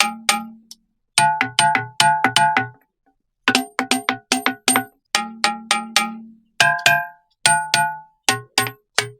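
Rocks struck by hand give off ringing, metallic tones in quick clustered runs of hits, with short pauses between groups and shifting pitches.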